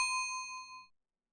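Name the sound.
bell tolling in video game Return of the Obra Dinn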